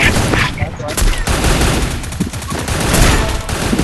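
Loud video game gunfire fills the mix with rapid, repeated shots and bursts, close and punchy, under a voice talking in the background.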